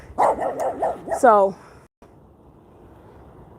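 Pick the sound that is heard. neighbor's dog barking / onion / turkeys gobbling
neighbor's dog barking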